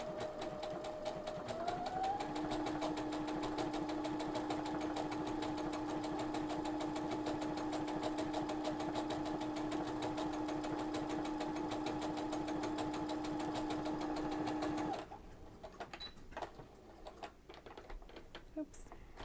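A sewing machine with an overcast foot runs steadily for about fifteen seconds, stitching woolly nylon thread into fringe with a fast, even mechanical whir, then stops, leaving a few faint clicks and handling noises.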